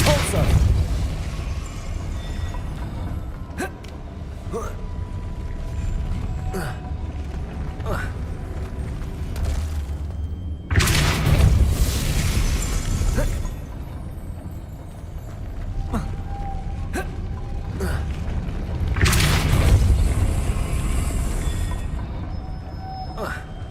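Depulso spells cast in the video game Hogwarts Legacy burst out as two loud, sharp whooshing blasts several seconds apart, surrounded by clicks, creaks and mechanical clunks of the game environment.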